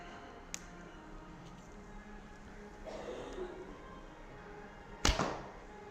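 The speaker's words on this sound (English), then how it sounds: "Slightly hum in the string" A Black Shadow Nomad bow from Freddie Archery, shot with a thumb ring, looses arrows: a soft snap early, then a loud sharp release and string thwack near the end with a brief hum, close and alone.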